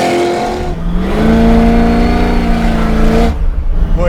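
A supercharged 750hp Chevy Nova pro-touring muscle car drives off and accelerates. Its loud, close engine roar climbs in pitch through the gears, with a brief shift break near the start.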